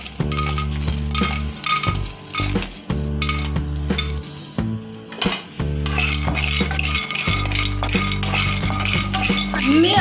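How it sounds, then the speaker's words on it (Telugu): Peanuts and whole spices dry roasting in a hot pan with no oil, stirred with a utensil: repeated scraping and clinking against the metal runs steadily throughout, fairly close, over a constant low tonal hum. "ఒక్క చుక్క ఆయిల్ లేకుండా అన్ని రకాలు బాగా వేయించుకోవాలి."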